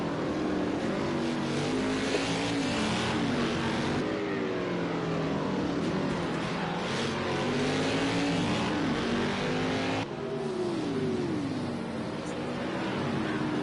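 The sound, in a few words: race cars pitting at Long Beach in racing video game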